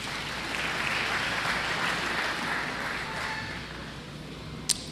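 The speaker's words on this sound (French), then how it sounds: "Acclamez la parole de Dieu." A church congregation applauds steadily, with a broad, sustained clatter of many hands filling the space at moderate volume, ending with a single sharp knock.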